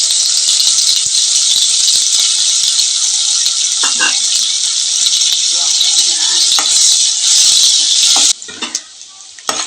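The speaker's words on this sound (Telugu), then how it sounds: "ముందుగా శుభ్రం చేసి పెట్టుకున్న ఎండురొయ్యలు వేసుకుందామండి." Dried shrimp fry loudly in a pan with a dense, bright hiss and crackle, stirred now and then, before the sizzle drops away near the end.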